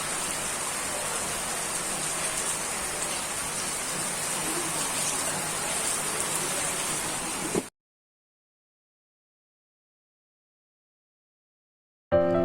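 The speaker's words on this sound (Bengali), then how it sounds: "বাইরে খুব বৃষ্টি পড়ছে" Heavy rain falls outside with a dense, steady roar of drops for several seconds, then cuts off abruptly into silence.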